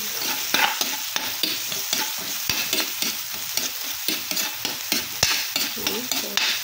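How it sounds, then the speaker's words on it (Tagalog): Garlic and onion sizzle loudly in a pan, with a busy run of rapid, rhythmic scraping and stirring strokes over a continuous bright frying hiss, close and without talk. "pag nagisa na po ang bawang sibuyas"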